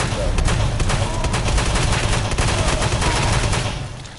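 Shotgun fire in the video game Fallout, a dense run of loud close blasts coming almost back to back and fading out near the end.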